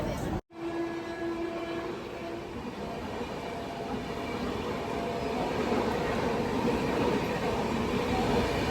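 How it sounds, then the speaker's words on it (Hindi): The Poorabiya Express 15280 from Anand Vihar to Saharsa rolls along as a Tejas Express overtakes on the parallel track: a steady, close rumble and rattle of wheels and carriages, with a brief dropout near the start, growing slightly louder toward the end. "हमारे पैरेलल में तेजस एक्सप्रेस ओवरटेक कर रही है, जो कि राजेंद्र नगर से न्यू दिल्ली जाती है।"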